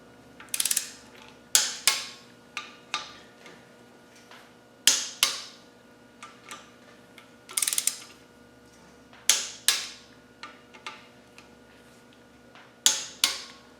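A torque wrench tightens the side cover bolts on a Land Rover 200Tdi engine, its ratchet clicking in short bursts, with sharp, close clacks spaced irregularly across the stretch and quiet gaps between.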